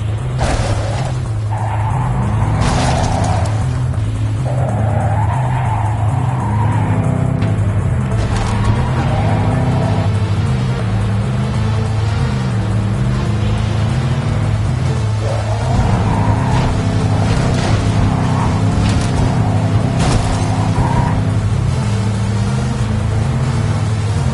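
A car engine in Cyberpunk 2077 drones loudly and continuously, its pitch rising and falling in repeated revving sweeps as gears shift, close and steady with no talk.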